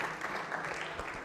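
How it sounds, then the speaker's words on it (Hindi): Brief burst of audience clapping at a university quiz show, a short, fairly faint patter of hands that holds steady without any voice on top. "तालियां जोरों से बजाइए, जोरदार तरीके से।"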